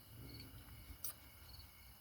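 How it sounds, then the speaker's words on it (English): Crickets chirping outdoors at night, a faint steady high trill with soft repeating pulses over a low background hum, no voices. "to the crickets and all of that night sounds"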